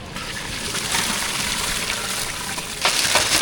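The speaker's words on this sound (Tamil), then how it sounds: "பொங்கலுக்கு அரிசி கழுவிட்டு வரோம்" Rice being washed in water for pepper pongal, a steady wet sloshing and trickling that runs throughout at close range, with a louder splash near the end and no talk.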